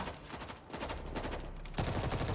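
Rapid, continuous automatic gunfire in the video game World War Z, dense rattling bursts with brief dips, loud and sustained through the whole stretch.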